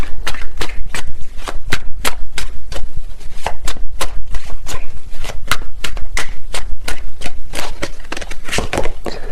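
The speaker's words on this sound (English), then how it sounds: "These cards are flying out." Tarot cards are shuffled in a fast, steady flutter of crisp snapping slaps, dozens of rapid clicks running continuously, close and fairly loud.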